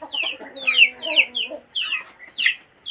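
Chickens clucking in a farmyard at feeding time, a run of short, close, repeated calls overlapping one another with no talk.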